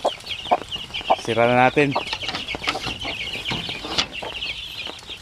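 Shamo Asil native chickens cluck and chirp close by with their chicks, one hen letting out a loud raspy call, while someone speaks over the birds.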